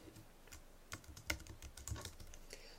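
Quick, irregular clicks of computer keyboard typing while writing code for an Excel user function on a Mac, faint and close, with a few sharper key strikes.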